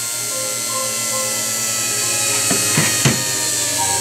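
A mini magnetic window motor energizer kit spins with a steady high whine and low hum, interrupted by a few brief rubbing clicks from the rotor catching near the coil, close up.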